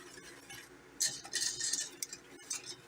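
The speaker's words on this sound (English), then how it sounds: "I'm going to take my whisk, and I'm going to mix this stuff together" A whisk mixes ingredients in a large saucepan on medium heat, making quick, light metallic scraping and clinking in short bursts at close range.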